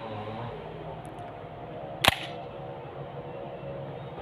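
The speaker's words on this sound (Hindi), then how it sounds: "फ्रेंड्स, हम इस शॉटगन को लोड करके देखेंगे।" A shotgun being loaded gives one sharp metallic click-clack midway through an otherwise quiet stretch of faint room tone.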